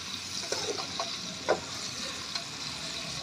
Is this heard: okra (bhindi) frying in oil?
yes